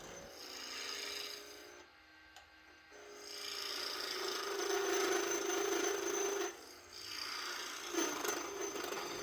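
A skew chisel cuts into a spinning wooden spurtle blank on a lathe, giving a steady rasping, scraping hiss that drops out briefly twice between longer passes.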